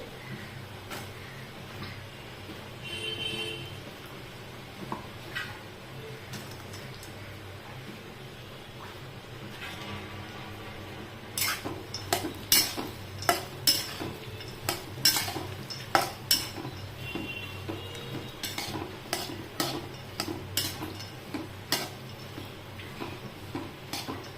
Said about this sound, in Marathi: आपण इथे सगळे बदाम पहिले भाजून घेतोय मस्त असं सोनेरी रंगापर्यंत आपल्याला हे परतवून घ्यायचे